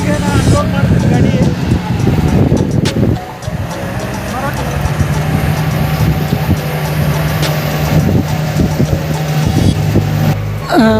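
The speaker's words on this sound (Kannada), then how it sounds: "ರಾಶಿ ಕೂಡ ಈಗ ನಾನು ಅನ್ಲೋಡ್ ಮಾಡ್ತೀನಿ ಗಾಡಿ." Combine harvester unloading harvested JJ 11 chickpeas in a farm field, a loud continuous engine idle and mechanical rumble with clattering, while someone talks over it.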